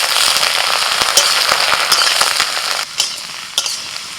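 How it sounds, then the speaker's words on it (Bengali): Hopa dropped into hot oil in a wok, sizzling loudly and densely with sharp popping crackles, then settling into a quieter sizzle with a few isolated pops, close by with no talk. "এবার তেলের মধ্যে দিয়ে দিচ্ছি হোঁপা।"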